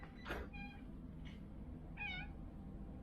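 Two faint meows, one short and a longer one a moment later, over a low steady background hum.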